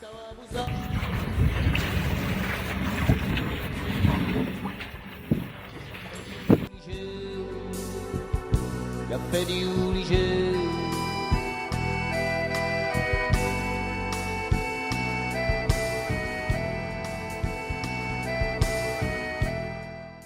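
A sailboat heads out of the choppy Roccapina bay in Corsica at night. Steady rushing wind and water noise lasts about six seconds, then music replaces it.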